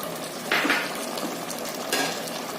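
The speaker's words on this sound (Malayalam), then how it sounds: "ഒരു 10 മിനിറ്റോളം ഇത് ഇളക്കി ഇങ്ങനെ ലെവലാക്കി എടുക്കാം" Mutton biryani mixture stirred in a pot, a steady close sizzle punctuated by two louder scraping sweeps of a spoon through the thick mixture.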